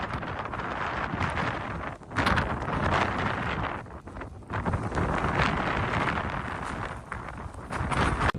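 Strong blizzard wind roars during a record storm in Hokkaido, Japan, buffeting the microphone in loud, rough gusts that surge and briefly ease several times; no voices are heard.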